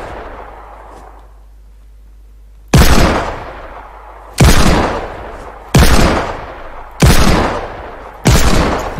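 Desert Eagle pistol shots in a video game: five loud, sharp, booming reports with decaying tails, spaced about a second apart after a quiet lead-in, with no voices.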